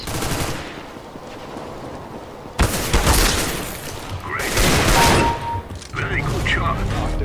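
A video game spits out bursts of gunfire, sharp rapid volleys breaking in after a quieter stretch and repeating in loud clusters, close and dense, with voices faintly underneath.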